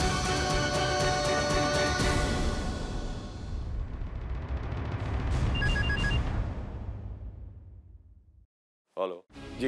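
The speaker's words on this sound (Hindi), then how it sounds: "कंचन के ससुराल वालों को फोन लगा, मैं बात करता हूँ।" A telephone rings in a Hindi television drama scene, a loud ringing tone over a dramatic music bed that fades out, followed by a brief spoken burst at the end.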